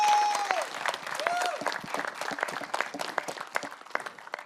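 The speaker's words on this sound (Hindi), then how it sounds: "एक बार जोरदार तालियां यार।" Loud, dense applause from an audience at a launch event for a martial arts reality series, bursting out at once and then thinning slightly as scattered voices and a brief whoop rise over the clapping.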